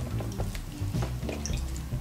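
Clean water splashes and trickles over a doll sitting in a bath, with close, continuous dripping and pouring that rises and falls in small bursts.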